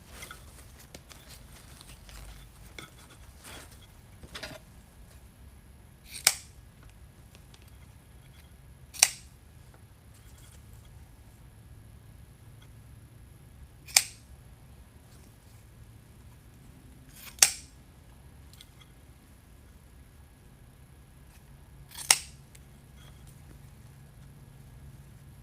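Scissors trimming a ribbon bow on a Christmas wreath, five crisp, isolated snips spaced a few seconds apart over a quiet background with faint rustling.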